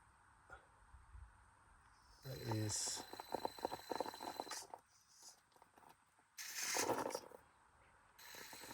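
RC crawler fitted with a 17.5t brushless motor, driving with drag brake engaged: quiet whirring motor bursts with gear ratcheting and rising electronic whine in two main surges, low level, with faint talk in the background.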